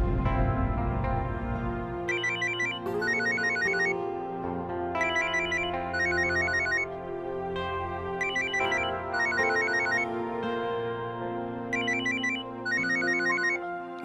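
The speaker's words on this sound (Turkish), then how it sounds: "Telefonun çalıyor." A mobile phone ringtone plays loudly and alone, a bright melodic tune repeating in regular bursts over a sustained musical backing.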